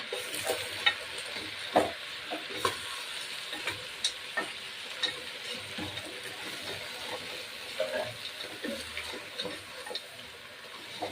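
Goat head and trotters curry with ginger paste is stirred in a hot pan, with a steady low sizzle broken by irregular scrapes and clicks of the spoon against the pan, close and fairly quiet.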